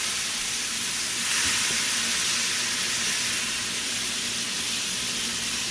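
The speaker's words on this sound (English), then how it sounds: "we're going to throw in the 2 pounds of peeled jumbo shrimp" Peeled jumbo shrimp, two pounds of them, sizzle steadily in garlic butter in a pan, a continuous close hiss of frying with no talking.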